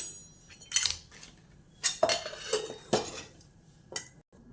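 Metal spoon clinks against a steel pot and bowl while ghee is spooned in for a sweet dish, a few sharp, close clinks and scrapes spaced about a second apart with quiet gaps between.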